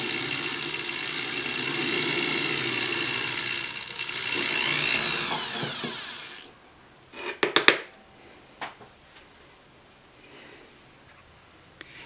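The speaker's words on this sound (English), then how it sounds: "center punch the metal and drill an air hole." A power drill whines steadily for about six seconds, drilling a small air hole in center-punched metal for a hollow ring, then stops, followed by a few sharp metallic clanks and taps.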